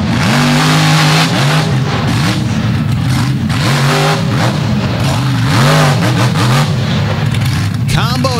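A monster truck's big engine revs hard at a dragway throwdown, with a loud, roaring motor rising and falling in repeated pulls under an announcer talking over a crowd.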